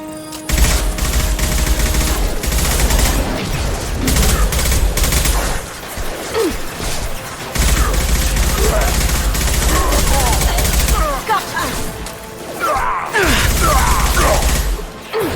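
Mass Effect 2 combat gunfire, sustained loud bursts of automatic fire broken by short pauses, with voices talking over the shooting.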